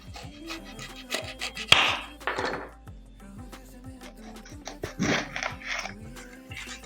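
A knife chops vegetables on a board while preparing chicken Manchurian, giving a steady run of crisp, close thunks spaced about a third of a second apart, with a few heavier strikes among them.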